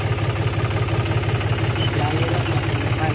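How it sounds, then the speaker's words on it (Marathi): Tractor engine idling at a steady, even throb, close and loud, with people talking over it. "तिच्यावर ट्रॅक्टर आणते"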